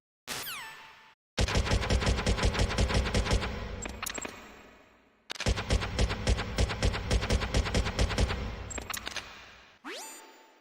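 FAMAS bullpup assault rifle firing in Metal Gear Solid, two long sustained bursts of rapid automatic fire, loud and close, framed by short electronic sweeps.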